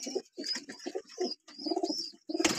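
Kaalsire pigeons coo in a loft, a string of close, clear rolling coos separated by short pauses, with a burst of wing flapping at the end.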